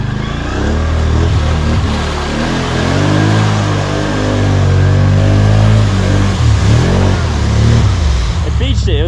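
A 2020 Can-Am Outlander 650 XMR ATV fitted with ITP Mega Mayhem tires revs hard, close and loud, its engine pitch climbing and falling in repeated surges as it churns through mud.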